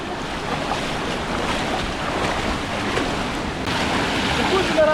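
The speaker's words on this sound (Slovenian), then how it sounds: "in brodenje po vodi." Someone wades through water in a Slovenian gorge, heard as a steady rushing wash of water with a few soft splashes and some wind buffeting the microphone throughout.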